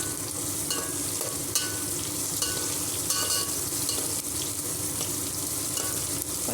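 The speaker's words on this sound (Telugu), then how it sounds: "బాగా గోల్డ్ కలర్ వచ్చే వరకు ఫ్రై చేసుకోవాలండి" Ingredients frying in a pan until golden for kichidi, a dense, constant crackling sizzle with occasional stirring scrapes, close and steady, no talking.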